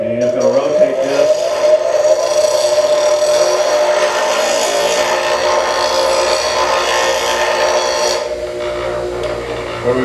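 A bench grinder hums steadily while a woodturning roughing gouge is rotated against the wheel, giving a continuous grinding whine under a voice before the tone drops near the end.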